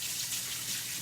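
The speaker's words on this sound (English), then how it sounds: "I'm gonna wash my hands real quick" A kitchen tap runs in a steady, soft, continuous stream as hands are washed, a quiet gush without any talk.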